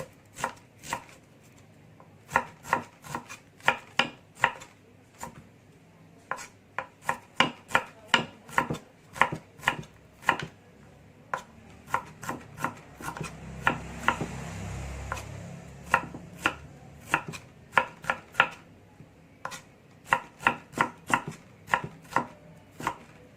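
Red shallots are chopped with a knife on a cutting board in a steady run of sharp, close, rhythmic chops that pause briefly and then resume, with no talking.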